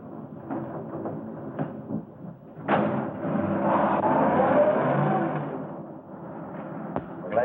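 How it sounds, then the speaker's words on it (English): A car engine rumbles, then a door thuds and the engine revs up into a rising whoosh as the vehicle pulls away. "Start the car, Johnny."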